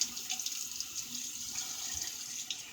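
Water runs steadily from a bathroom tap into a sink for a rinse after shaving, a close, continuous hiss and splash with no voices.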